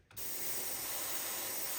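An airbrush spray gun lightly dusts weathering paint onto a model grain wagon, giving a steady, close, continuous hiss after a brief start, with no talking over it.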